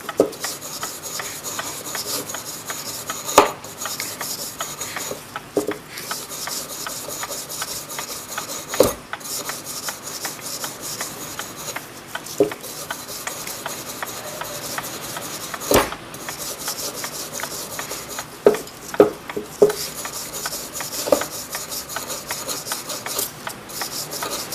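Autosol metal polish worked by hand with a cloth, a steady close back-and-forth rubbing rasp that keeps going throughout, broken by occasional sharp clicks and taps, with no talk.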